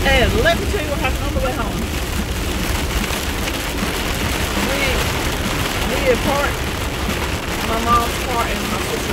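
Steady pouring rain patters on a car while driving at 45 mph against a constant rumble, with a voice speaking intermittently under the noise.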